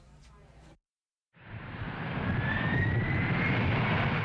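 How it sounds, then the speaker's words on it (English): After a brief quiet gap, a jet aircraft's engines roar up at a UPS Worldport package hub, a broad loud rush swelling and holding with a rising whine. "From the unending roar of jet engines to the constant hum of conveyor belts"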